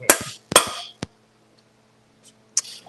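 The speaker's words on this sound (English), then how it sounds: "The hammering part." A few sharp, ringing hammer strikes land at irregular intervals, close and loud, separated by short quiet gaps.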